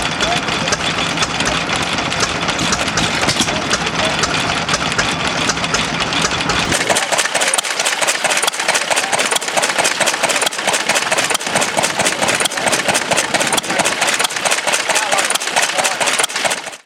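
An old water-cooled petrol portable farm engine of the kind used for chaff cutting and grain grinding runs steadily and loudly, a dense mechanical clatter that continues unbroken and grows leaner after the first seven seconds, with no talk over it.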